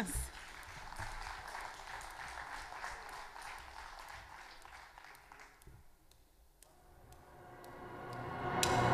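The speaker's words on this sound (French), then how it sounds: "Applaudissements pour Aurélie, s'il vous plaît" Audience applauding for a singer at a song contest gala in Lillebonne, steady dense clapping through most of the clip, then thinning out before a louder swell returns at the end.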